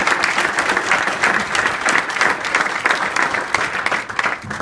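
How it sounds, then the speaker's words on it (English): Audience at a hypnosis show breaks into steady, full applause, a dense wash of many clapping hands that rises and falls slightly throughout. "Give these folks another big round of applause."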